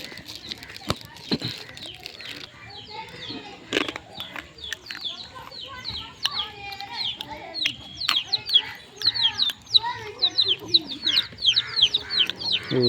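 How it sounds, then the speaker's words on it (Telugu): A chick peeps and a hen clucks in a village garden on a drizzly day, the bird calls coming in many short bright chirps over a busy outdoor background, with faint talk and rustling mixed in. "కోడి పిల్ల"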